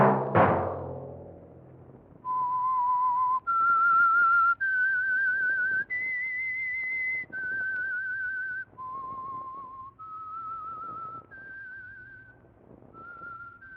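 A lone whistler carries the sinister theme signal of The Whistler radio drama, a sequence of long, clear sustained notes stepping up and down in pitch, loud and close, with a brief thump at the start and no talking.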